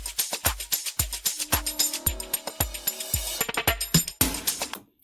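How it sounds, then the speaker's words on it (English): An amapiano drum fill rolls over the groove, with rapid kicks and crisp percussion building and tightening before stopping abruptly, loud and close with no voices. "So the drum fill that I used sounds like this."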